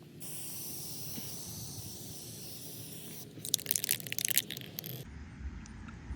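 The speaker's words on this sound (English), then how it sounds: "It's dry now, so now we'll add clear coat." An aerosol can sprays clear coat onto a repaired cracked car bumper, a steady close hiss followed by a burst of crackly, rattling sound before it stops.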